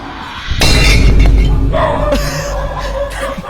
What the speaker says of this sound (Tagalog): Grabe na basag. Yung batong bumigay.